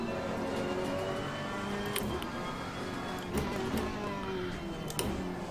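A racing car engine in Assetto Corsa Competizione drones steadily with a sustained whirring tone, rising and easing slightly, with a few sharp clicks over the top.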